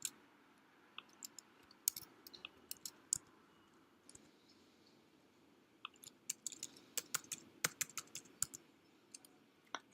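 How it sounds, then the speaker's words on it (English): Clicks and taps of a computer keyboard as a registration code is typed in, in irregular bursts of quick keystrokes with pauses between them, close and fairly quiet over a low background hum. "This is where you'll type in your registration code"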